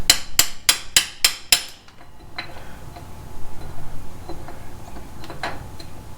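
Hammer strikes driving a part onto a GM 14 bolt rear axle during a drum to disc brake conversion: six sharp, evenly spaced metallic blows close up, then quieter clinks and shuffling.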